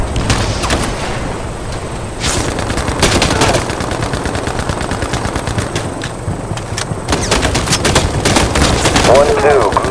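Gunfire in the war shooter Battlefield Mobile: rapid automatic bursts crackle almost nonstop, loud and close, amid heavy battle noise with voices mixed in.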